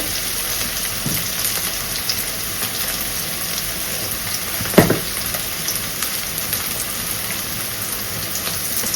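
Onions sauté in oil in a pan for kurma, producing a dense, continuous frying hiss close by, with one brief louder clatter from stirring midway.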